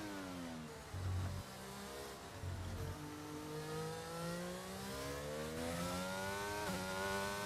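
A Formula 1 race car engine in F1 22, on the final lap, whining loud and close as it revs up and down through gear changes, rising steadily toward the end with no talking.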